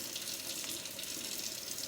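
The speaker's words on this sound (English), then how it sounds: "I'm going to leave the water running" Water runs steadily from a sink tap during handwashing, a continuous close hiss and splash with no pauses and no voices.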